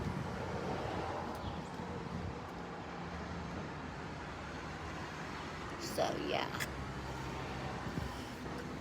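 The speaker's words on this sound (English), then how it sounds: "I hope the traffic noise isn't so overwhelming of the video." Steady road traffic rumbles outdoors behind a person talking without a microphone, a continuous broadband wash of passing cars with wind buffeting the mic.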